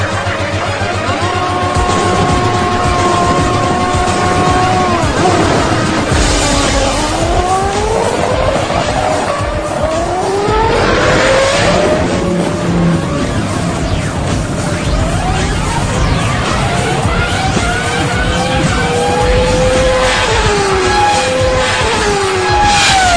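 Fiat 147 car, Garelli moped and banana boat in a quarter-mile drag race, heard as continuous loud engine roar with rising revs and gear-change sweeps, motors straining at full throttle with no talk.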